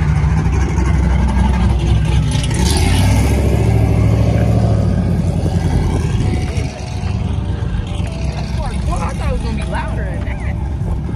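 Engine of an old school Chevrolet Camaro at a car show, a loud, steady low rumble with muffled exhaust droning throughout, heard close under continuous nearby talking and crowd noise.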